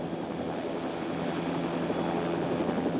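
Bell OH-58 helicopter turbine engine at normal operating RPM, a steady dense whine and roar with a low rotor throb, loud and continuous throughout without voices.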